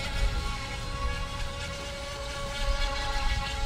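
A small JJRC Pentium S1 RC boat motor buzzes steadily on the water at moderate distance, with a constant droning hum and no voices.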